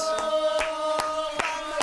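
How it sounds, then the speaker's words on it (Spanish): Rhythmic clapping from a club audience at a Córdoba cuartetazo show, sharp claps landing about every 0.4 seconds over steady music with a sustained tone. "Palmas."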